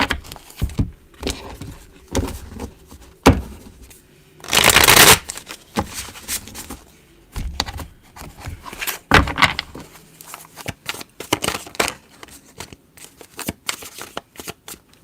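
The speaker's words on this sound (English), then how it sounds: "Sometimes the only way to get a good shuffle with this is to just split it up." A deck of oracle cards is shuffled by hand up close, with repeated soft riffling and flicking bursts, one longer rapid riffle in the middle, and scattered taps as the split deck is handled, with no talk over it.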